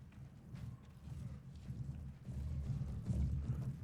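Horse hooves clip-clop faintly in the Mount and Blade Warband video game, a soft, uneven thudding rhythm that grows slightly louder toward the end.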